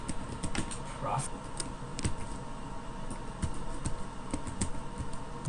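Steady keyboard typing on a computer keyboard, entering a company name into business accounting software, with close, fairly even key clicks running throughout and a faint voice murmuring in the background.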